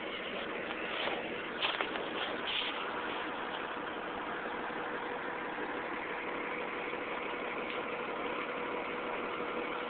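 An excavator engine, one that smokes blue and burns oil, runs on at a steady idle for ten seconds, a continuous close droning hum with slight bumps in loudness.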